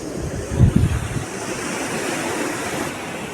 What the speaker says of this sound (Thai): ท่านผู้ชมน่าจะได้ยินเสียงคลื่นทะเลเสียงลมทะเล